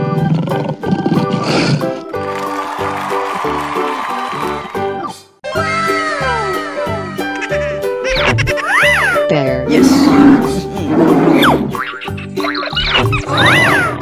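A cartoon lion roars among other wild animal calls and busy sound effects, a dense, loud stretch that drops briefly near the middle before the roaring and animal cries continue.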